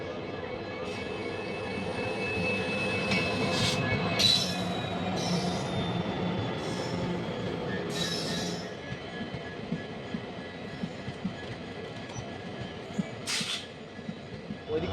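The Lake Rangiya Express, hauled by a WDP-4D diesel locomotive, passing close by in a steady rumble of wheels and engine, with intermittent squeals and horn-like tones before the sound eases off.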